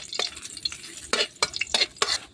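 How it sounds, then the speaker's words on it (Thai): Garlic drops into boiling oil for pork fried rice, giving a few sharp crackling bursts and quick stirring scrapes over a soft background hiss. "นี่น้ำมันก็เริ่มเดือดแล้วนะครับใส่กระเทียมครับ"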